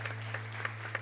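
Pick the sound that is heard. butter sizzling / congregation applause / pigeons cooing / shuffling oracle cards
congregation applause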